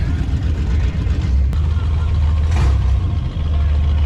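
A Tuff Truck's engine runs in gear at a night-time Octane Fest full-contact Tuff Trucks event, a loud, steady low rumble that holds throughout with outdoor crowd noise around it.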